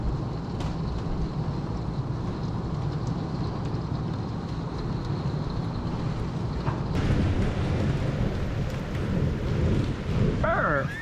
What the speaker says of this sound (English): we get just under 2 inches of rain here at the homestead last night. Whew, it was coming down hard.